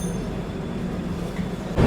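The Amaravati Express pulls away after a two-minute halt, giving a steady rumble of rolling wagons throughout with a louder surge near the end.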